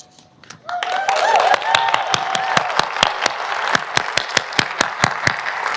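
Audience at a large education conference plenary session breaks into clapping, starting with a few sharp claps and swelling into sustained applause with distinct loud hand claps standing out close by.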